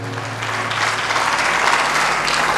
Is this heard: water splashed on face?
no